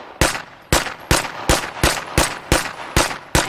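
Nine evenly spaced shots from a civilian legal MP5K machine pistol with muzzle brake, dot sight and accurized trigger in State of Decay 2, fired loud and close in a steady semi-automatic rhythm, each crack followed by a short ringing tail.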